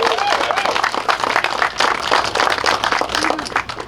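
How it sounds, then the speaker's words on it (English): Audience applause at a college of applied technology presentation, a busy patter of many hands with some crowd noise mixed in, moderately loud and continuous over a few seconds. "Let's give him a round of applause."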